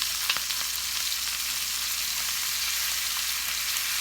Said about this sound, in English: You turn up the fire, fine, add the onions, right?